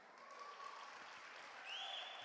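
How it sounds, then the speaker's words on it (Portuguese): A church congregation applauds during a sermon, a quiet steady wash of clapping that swells slightly near the end, with a faint tonal hum running underneath. "Você pode aplaudir Jesus?"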